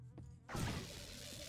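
Insect buzzing in the video game Oddworld Stranger's Wrath on Android, a brief high drone followed by a sudden burst of swarming noise, short and fairly faint.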